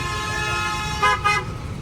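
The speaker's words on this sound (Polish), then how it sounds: "Te klaksony" Two short car horn toots cut through a steady rumble of street traffic in Vietnam, both fairly loud against the constant background hum.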